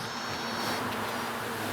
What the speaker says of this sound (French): la reine de cette ruche émet un son aigu en se frottant les ailes